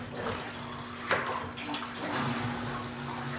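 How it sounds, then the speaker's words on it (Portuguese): Water pours steadily into a washing machine drum during a side-by-side test of two washers, a continuous close splashing rush with a faint hum underneath. "Agora, gente, eu vou colocar mais água de novo."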